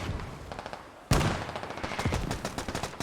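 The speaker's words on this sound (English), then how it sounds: "An automatic rifle." An automatic rifle fires full auto in the game Squad: a quiet spaced patter of distant shots, then a sharp loud burst opening a rapid, even stream of gunfire that keeps going to the end.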